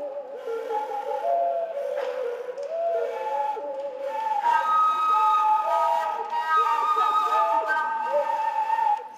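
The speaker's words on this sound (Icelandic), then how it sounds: "Varst að flauta?" A person whistles a wavering, sustained tune for several seconds, close and fairly loud, alone without talking.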